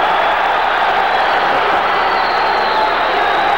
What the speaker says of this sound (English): The crowd is loving this fight.